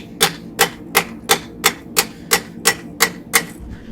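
A hammer strikes a forged steel feather on the edge of an anvil, about ten sharp, ringing blows in an even, quick rhythm, close and loud with nothing else heard.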